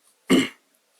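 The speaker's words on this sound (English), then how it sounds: "I do apologize for clearing my throat." A single short, gravelly throat clearing, close and fairly loud, lasting about a quarter second amid otherwise quiet surroundings.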